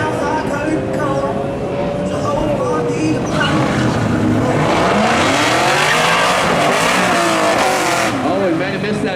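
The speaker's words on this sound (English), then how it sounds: "That Camaro sounds like that full exhaust system." Camaro race car with a full exhaust system at a spectator drag racing championship, a loud engine roar that builds and revs as it accelerates, with continuous crowd and announcer talk mixed underneath.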